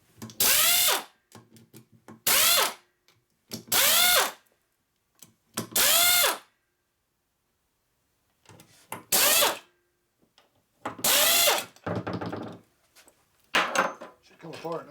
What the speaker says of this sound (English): So we got power tools right here.